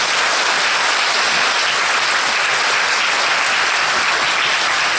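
Dense, loud audience applause fills a university lecture hall after a talk on a yacht circumnavigation of the world, a continuous roar of many hands clapping at once with no voices.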